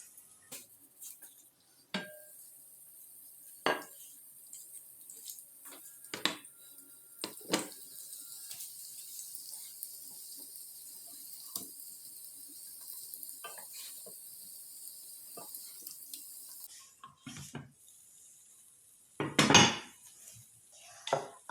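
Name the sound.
syrniki (cottage cheese pancakes) cooking in a pan under a lid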